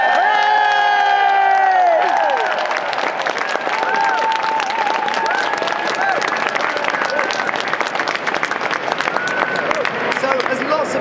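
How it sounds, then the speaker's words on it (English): A crowd at the British Museum applauds and cheers loudly for performers, with shouts and whoops over the opening seconds, then dense clapping that carries on steadily throughout. "should we just have another round of applause for everyone that's performed?"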